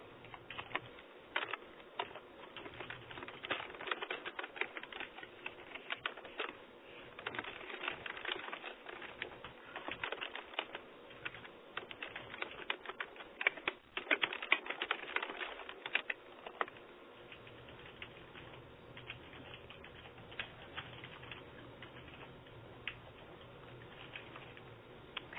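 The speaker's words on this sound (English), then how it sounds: "I stopped hearing keys click" Computer keyboard keys click in quick, irregular bursts of typing during an online webinar, faint and continuous over a steady low background with no talk.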